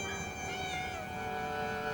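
A feral tomcat meows in a drawn-out, wavering tone over a steady background hum, close and fairly loud throughout.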